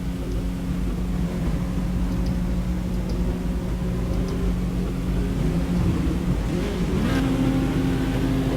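Racing cars in a sim racing game rolling off on the warm-up lap at the Brazil round, a steady loud low engine drone with overlapping tones that rise and shift as the cars pull away together.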